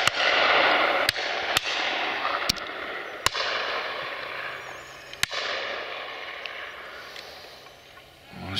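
Shotgun reports at a driven pheasant and partridge shoot, about six sharp cracks spread irregularly over several seconds, distant and echoing over a steady outdoor rush of wind.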